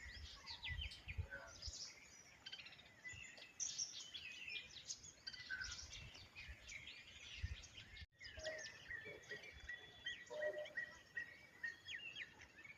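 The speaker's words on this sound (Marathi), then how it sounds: "कोणत्याही प्रकारचा आवाज न करता फक्त पक्ष्यांचा आवाज ऐकण्यासाठी मी इकडे आलो होतो." Birds chirping and singing around a quiet village ringed by hills, many faint scattered calls at a distance over a low soft background hush.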